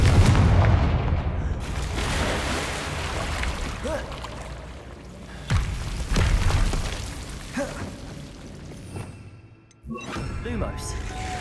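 In the Hogwarts Legacy video game, a Confringo blasting curse sets off fiery explosions. Several booms and bursts break through a rumbling cave soundscape, with other game sounds between them.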